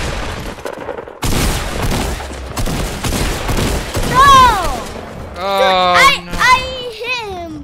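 Pump shotgun fire in the Fortnite video game, loud sharp blasts mixed with game effects, while excited children talk and shout over the action.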